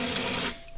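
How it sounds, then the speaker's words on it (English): Water gushes steadily from a tap into a newly installed sink in a home brewing space, a loud close splashing stream that cuts off abruptly partway through. "Get a bit of water going."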